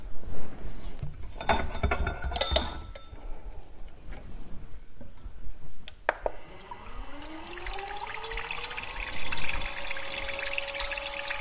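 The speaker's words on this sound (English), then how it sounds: "I'll pop that on the mixer straight away" An electric mixer whirs into a cold-process nail-strengthening hand cream formula, its motor pitch rising after some clinks and handling noises, then holding a steady, close whine.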